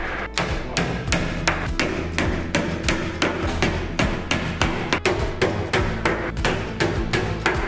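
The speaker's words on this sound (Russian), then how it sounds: "Старайтесь забивать гвозди под прямым углом и не бейте их слишком близко к краю." Nails being hammered into a wardrobe back panel, a steady run of sharp, loud blows repeating roughly every third of a second, close by and without talk.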